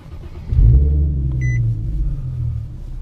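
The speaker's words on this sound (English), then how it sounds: "So let's start the car." A car engine cranks and catches with a loud low surge, then settles into a steady rumbling idle, while short electronic beeps chime in the background.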